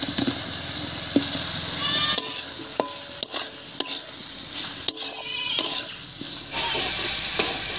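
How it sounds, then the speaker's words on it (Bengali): Boiled potatoes are stir-fried with cooked-down spices in a pan for a Bengali cauliflower and soybean dish. A spatula scrapes and knocks against the pan in loud, irregular strokes over a continuous sizzle, with no speech. "মশলার সঙ্গে আলুটাও খুব ভালো করে কষে গেছে"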